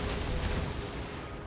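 Naval gunfire from the cruiser HMS Emerald in World of Warships roars in a loud broadband blast, then a rumbling decay with no clear separate shots.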